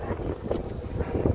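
Gusty wind buffeting the microphone with a low rumbling roar, rising and falling unevenly throughout.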